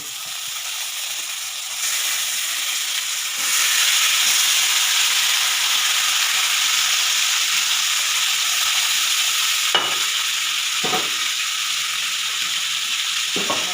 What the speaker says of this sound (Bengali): এবার আমি চিকেনটা কড়াইয়ে দিয়ে দেব